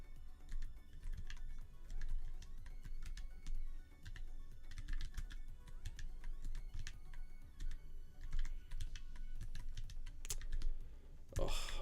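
Rapid typing on a split computer keyboard, dense clusters of close, crisp key clicks in uneven bursts over faint room tone, with a sharper clack near the end.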